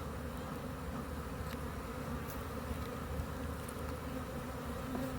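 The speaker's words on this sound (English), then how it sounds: "This is an active hive." Honeybees buzz steadily at an active hive outdoors, a dense, even drone of many wings that holds without pause from start to finish, with no voices.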